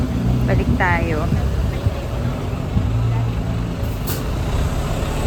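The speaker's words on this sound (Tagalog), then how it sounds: "Oh, traffic na oh. Nagta-traffic pala dito." Road traffic with cars and trucks near Arashiyama in Kyoto, Japan, a continuous low engine rumble and idling drone, with a short airy brake hiss and voices talking over it.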